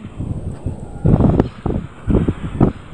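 Strong gusts buffet the microphone in uneven bursts, loud low rumbling that rises and falls over a few seconds.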